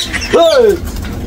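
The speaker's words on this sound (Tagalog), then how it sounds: "Ang iingay ng mga lovebirds na to." Lovebirds give a single loud, close descending call against noisy background chatter from the birds.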